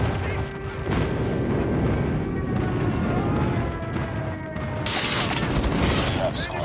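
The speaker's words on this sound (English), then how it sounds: "Enemy airstrike incoming." Video game airstrike explodes in a dense barrage of booms and crashing blasts, loud and continuous, with a sharper burst of impacts near the end.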